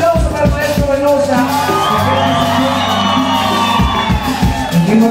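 A live concert audience in Tausa, Colombia, cheers and whoops loudly throughout, mixed with live band music and occasional shouts.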